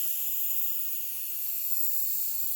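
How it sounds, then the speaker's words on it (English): A steady, loud hiss of silicone lubricant sprayed from an aerosol can, held continuously for a couple of seconds without pause. "spray this thing full of silicone lubricant"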